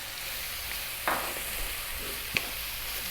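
Fresh chili hitting hot oil with garlic ginger paste for mutton curry, a steady frying hiss with two brief sharper sizzles as it goes in and gets stirred, no voices.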